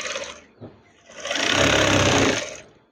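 Sewing machine stitching a wave-style curtain, a loud steady mechanical whir that runs for about a second and then stops, with a short softer burst of running at the start.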